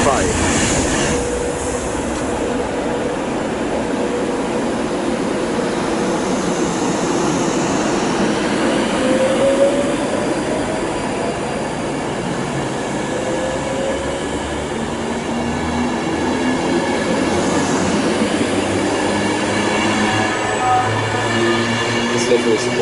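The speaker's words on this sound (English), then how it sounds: "there goes the class 390 Pendolino going from London Euston to Glasgow Central" A class 390 Pendolino train passes at Watford Junction on the West Coast Main Line, a long, steady rumble of wheels and rolling carriages with faint squeals, under intermittent talking.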